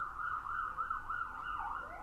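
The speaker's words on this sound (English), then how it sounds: "yes, there's the siren" An emergency vehicle siren wails outside, its rising and falling tone faint and distant but continuous, with no voices over it.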